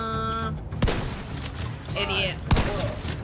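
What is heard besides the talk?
shotgun fire in The Division 2 video game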